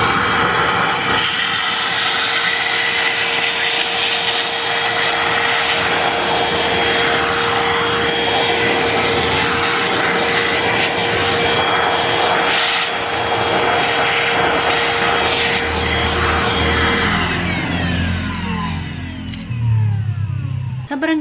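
A Bobbot cordless vacuum cleaner runs on standard suction with a steady, whining motor drone, then winds down near the end as it switches off; the sound is loud and close and stays continuous throughout.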